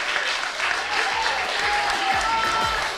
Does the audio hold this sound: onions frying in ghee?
no